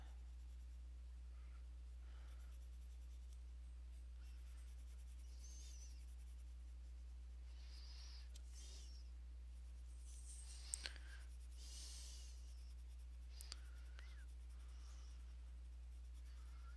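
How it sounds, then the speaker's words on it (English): Pencil, including a harder grade, drawing on thin paper: a soft, continuous scratchy rubbing in uneven strokes, faint and close, with an occasional small tick and no talking. "you have to be careful when going over things with a harder pencil that you don't rip the page"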